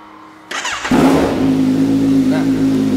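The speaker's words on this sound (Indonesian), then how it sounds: "Untuk suara knalpotnya dia pakai knalpot Rockfan." A Kawasaki Z1000 motorcycle with a Rockfan aftermarket exhaust starts up and revs loudly up close, the exhaust settling into a throaty, steady roar.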